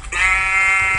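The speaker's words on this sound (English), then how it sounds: "first, I'm gonna shear this sheep real fast." A single sheep bleat from Minecraft, sounded as the sheep is sheared, loud and close with a buzzy, sustained tone lasting most of a second.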